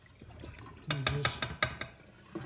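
Water is poured and shaken out of a can in a kitchen, a quick run of about six close splashy glugs that then trails off, faint and alone.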